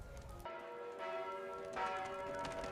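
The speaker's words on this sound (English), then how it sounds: "The bells of the church ring for morning prayer." Church bells ringing for morning prayer in medieval London, several resonant strikes sounding at a moderate distance with a ringing tail, faint and without voices.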